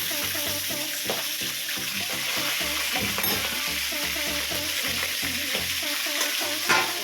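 A fish head fries in a pan with spices, bay leaf and chilli in a loud, continuous sizzle, stirred now and then, while steady music plays underneath.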